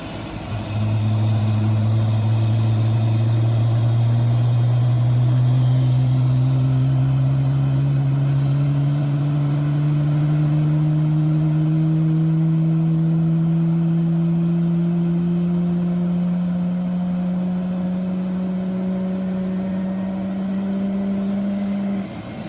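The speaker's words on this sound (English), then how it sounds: "this is the sound of the 777, yeah? Yeah. The low frequency spool up of the engines." A deep, steady engine drone rises slowly in pitch over about twenty seconds, continuous and loud, as a Boeing 777's jet engines spool up nearby.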